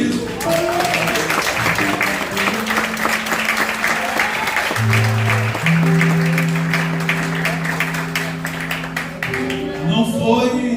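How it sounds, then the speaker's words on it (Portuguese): Church congregation applauding during a sermon, steady clapping throughout with sustained organ or keyboard notes playing underneath and a voice briefly audible near the end. "Você pode aplaudir Jesus por isso?"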